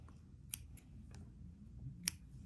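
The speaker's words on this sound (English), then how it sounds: "let's just cut that thread out of the way." Scissors cut sewing thread during bag making, giving two or three faint, sharp clicks over a quiet low room hum.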